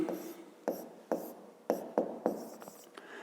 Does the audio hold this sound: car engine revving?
no